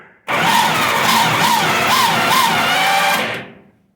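The 24-volt starter of a YuMZ tractor running on two batteries cranks the engine at about minus 15 degrees with thick oil, a steady strained whirring for about three seconds that stops without the engine firing.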